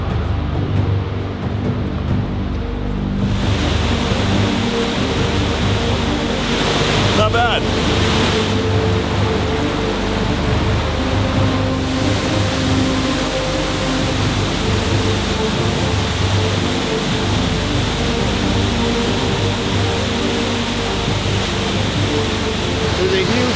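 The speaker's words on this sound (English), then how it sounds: "Sounds like there's a waterfall down here." A waterfall rushes in a mountain hiking setting, a steady broadband roar of falling water that holds loud and unbroken throughout, with a brief spoken remark near the start.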